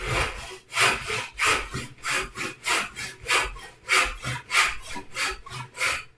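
A hand saw cuts through wood clamped in a vise, giving steady back-and-forth rasping strokes, about two per second, close and clear with no talking.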